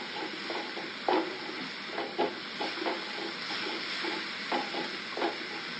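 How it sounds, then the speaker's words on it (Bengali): Spice paste stir-fried in a pan for a Bengali fish dish, a steady close sizzle with repeated scraping stirs at an uneven rhythm, no voices. "এবার এই মশলাটাকে খুব ভালো মতো কষায় নেব।"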